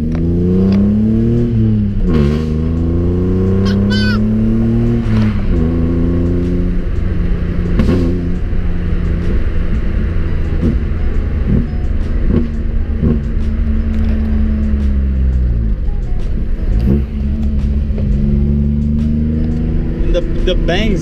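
A small car fitted with a modified exhaust revs hard, with rising and falling engine drones and sharp pops and bangs scattered throughout, loud and close for the whole stretch.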